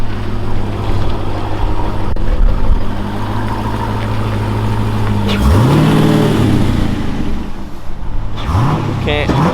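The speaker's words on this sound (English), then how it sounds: "So here comes big twin turbo guy." A big twin-turbo car, not a regular Hellcat, roars past with a loud engine rise and pitch sweep, heard over steady road or cabin rumble with a second pass near the end.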